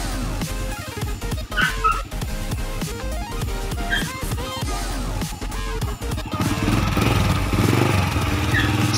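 A Honda Wave 100 motorcycle engine cranks briefly on a new electric starter motor and catches, then idles with a steady, loud putter close by.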